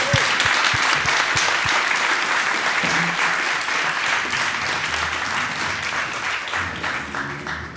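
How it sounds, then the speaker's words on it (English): Sustained round of applause from a seated audience at an institutional event honouring a new PhD graduate, dense and even throughout with occasional faint voices underneath. "I think we should give him a round of applause."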